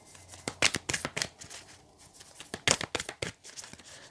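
A deck of tarot cards is shuffled by hand close up, with a quick series of crisp riffling and slapping bursts that stop and start, and no talking.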